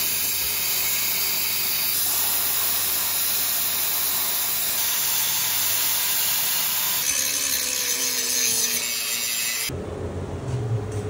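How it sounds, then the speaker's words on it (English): A plasma cutter slicing brackets off a differential on a Coyote-swapped Bronco axle, giving a loud, steady rushing hiss that runs unbroken with small shifts in tone, cutting off sharply near the end. "I'll probably slice them off with a plasma and then clean it up after"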